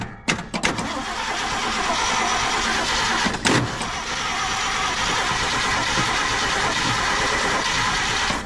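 A 1978 Ford F-350 engine cranks steadily over for several seconds with the starter jumped at the solenoid, an even, continuous churning close by and fairly loud, with a brief clunk partway through.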